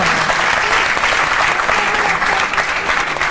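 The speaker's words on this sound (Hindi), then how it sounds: "तो अपनी तालियां आप जारी रखिए गुरु के लिए।" Audience clapping at a gathering honouring a young boy, dense and loud continuous applause from a crowd close by, sustained for the whole stretch without a break.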